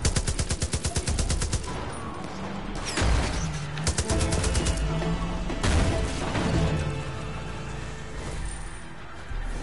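Rapid bursts of gunfire in the video game Far Cry 5, a sniper's shots cracking amid clattering automatic fire and heavy impacts, loud and repeated in clusters across the clip.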